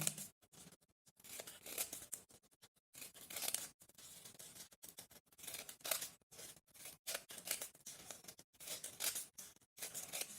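Scissors snip through strips of paper for a children's craft appliqué, a quiet, irregular series of crisp cuts with short pauses between bursts.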